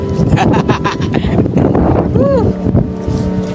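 Strong wind on the summit of Mount Apo buffets the microphone with a steady low roar, while people talk over it nearby.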